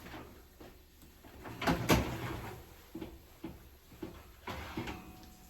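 Oven door opening and knocking shut with several clunks and thuds while roasted beef shanks are taken out, fairly quiet and close by in a home kitchen.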